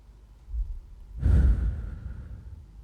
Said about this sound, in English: Deep breathing means like this. Like you just breathe.